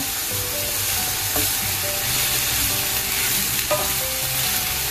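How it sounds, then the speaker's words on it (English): Fresh spinach sautéing in a hot pan, a constant loud sizzle and crackle with a soft stir scraping now and then, no voices. "And then again we'll saute it for 3 minutes"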